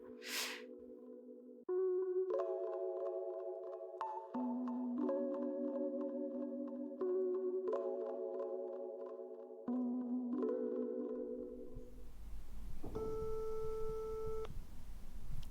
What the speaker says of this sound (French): Je reprends contact par téléphone avec Julien